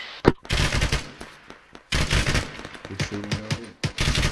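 Bursts of automatic gunfire in a military video game, rapid volleys of shots in several loud clusters separated by short pauses, close and harsh.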